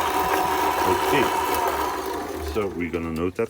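Electric motor on a pedal-controlled setup with a Hall sensor or potentiometer pedal, a steady mid-pitched whir held at full pedal, then someone speaks over it as it winds along.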